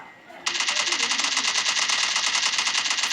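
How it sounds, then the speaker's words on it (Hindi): Rapid automatic rifle spray fire in the Free Fire mobile game erupts after a brief quiet moment, then hammers on as a steady, even stream of loud, close shots lasting about three seconds. "जितने बुलेट हो भाई बचाओ मत, फ्री फायर दे दो पूरी की पूरी"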